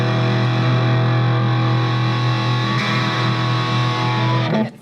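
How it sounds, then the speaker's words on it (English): An overdriven electric guitar through a 2-Rock amp plays a sustained, thick high-gain distorted chord, loud and dense, ringing steadily before cutting off abruptly. "Overdriven, the 2-Rock's round sound became a round, brown wall of distortion."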